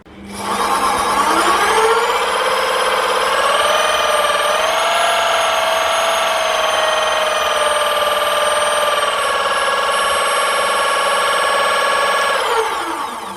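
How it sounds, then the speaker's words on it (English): A 90-degree gearbox running in reverse at about 1300 RPM whines loudly and steadily at close range, spinning up at the start, holding an even mechanical drone with a faint buzz, then winding down at the end, with no talking. "I've got to run this in reverse to get it to run the right way, and it's a bit bloody noisy actually"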